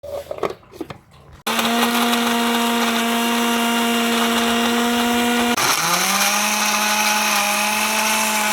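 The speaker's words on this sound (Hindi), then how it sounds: "अब इनको हम ग्राइंडर में डाल के ग्राइंड करते हैं।" An electric grinder whirs loudly and steadily as it purees chopped ginger and garlic into a paste, running continuously after a brief start, with a shift in pitch near the end as the load changes.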